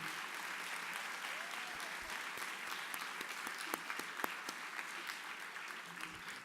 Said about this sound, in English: please give him a clap, round of applause.